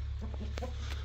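A young rooster gives a few short, soft clucks close by over a low steady hum.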